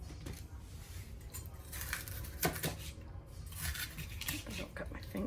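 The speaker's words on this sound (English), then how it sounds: "our vegetables that we're going to chop up for the chili" Vegetables being chopped for chili in a home kitchen, with knife and utensil clatter against a board and pan in a steady, busy run of close knocks and scrapes.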